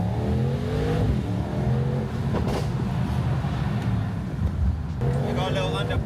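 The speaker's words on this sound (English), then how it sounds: "I put down the window so you can take in the sounds of the 4-litre V8" Mercedes-AMG GT 63 with its 4-litre V8 in track mode, revving loudly up and down through an open window as the car drives, with steady road noise and a brief rise near the end.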